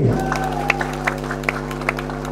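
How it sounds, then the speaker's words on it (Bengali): Scattered claps ring out at a company sports prize-giving for a cricket runner-up award, a few sharp hand claps at irregular intervals over a steady PA hum and faint crowd noise. "জোরে করতালি"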